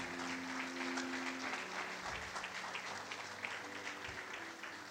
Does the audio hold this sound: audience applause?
yes